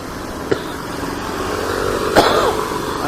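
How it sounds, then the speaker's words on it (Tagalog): Two short coughs, one early and a louder one later, over steady street traffic noise near Binondo Bridge in Manila. "Ay, nako, ubo."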